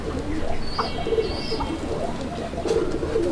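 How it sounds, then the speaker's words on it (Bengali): A male deshi pigeon cooing nearby, a few soft throaty coos over a low murmur of background noise. "এর নরের ডাকটা দেখেন আপনারা দেখতে পাচ্ছেন"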